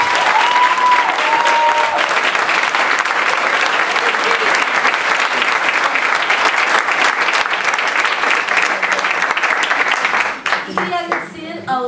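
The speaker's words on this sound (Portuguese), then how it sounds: "Uma sala de palmas para eles." Sustained loud applause from a theatre audience at an independent theatre in Oeiras, dense clapping filling the room for about ten seconds before tapering off, with a few voices at the end.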